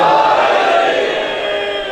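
A crowd at a Shia majlis gathering chants religious slogans in unison, a loud, dense mass of voices sustained throughout and slowly fading slightly toward the end.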